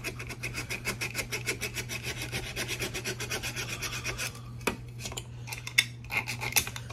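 Rhythmic rasping strokes of a small saw or sanding on parts of a toy forklift, steady back-and-forth scraping close by, slowing near the end into a few separate sharper scrapes and taps.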